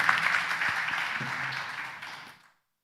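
Sustained applause from an audience for the teams at an investor demo day, a dense wash of many hands clapping at steady loudness for over two seconds before cutting off abruptly.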